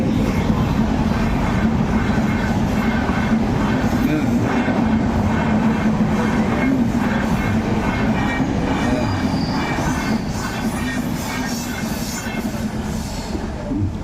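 A train passes close by with a loud, continuous rumble and rattling, rhythmic wheel noise that stays steady throughout.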